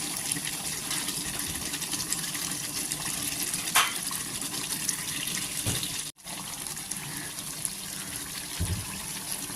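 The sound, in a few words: spice-washing water poured into mutton curry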